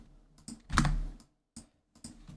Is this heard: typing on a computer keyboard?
yes